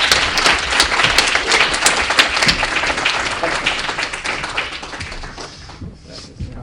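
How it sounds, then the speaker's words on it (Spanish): Loud, sustained applause from an audience at a university talk on a Quechua translation of Don Quixote, dense clapping that slowly thins and fades toward the end. "Démonos un aplauso fuertísimo a Odi González"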